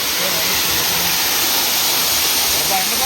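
Lover's Leap waterfall in Nuwara Eliya, Sri Lanka, gives a steady, hissing rush of falling water, unbroken and fairly close.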